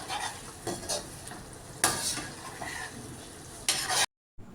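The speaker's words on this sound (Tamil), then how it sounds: "பன்னீரை போட்டுக்கலாங்க அதில். போட்டு அப்படியே கலந்து விட்டுக்கலாம்." Fried paneer being stirred into tava pulao in a hot pan, with repeated scraping stir strokes over a steady low sizzle, close and fairly loud, ending in abrupt silence.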